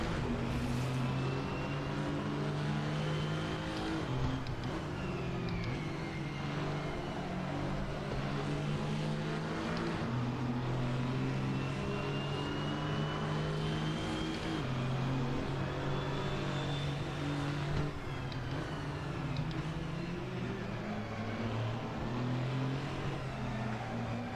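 Ford Mustang GT4 race car engine in Assetto Corsa at Mondello, a steady droning roar that rises and falls gently with the throttle for a long continuous stretch, no voices present.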